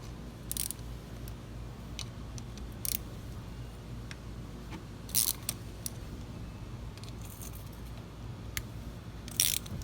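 A socket wrench with an extension turns bolts while a TTR gets a new gasket, with a handful of sharp metallic ratchet clicks spaced apart over a low steady background hum.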